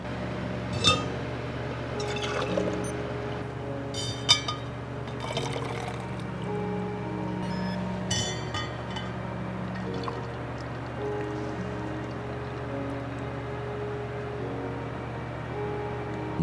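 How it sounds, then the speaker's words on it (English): Water for steeping sencha green tea is poured into a glass vessel, giving a steady gurgling trickle under a constant low room hum, punctuated by a few sharp glass clinks. "We want 200 milliliters of water."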